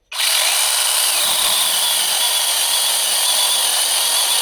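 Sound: LEADER cordless mini chainsaw cutting wood

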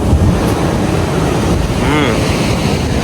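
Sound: sea waves on the beach

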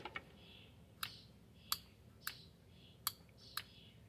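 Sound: overdrive solenoid clicking

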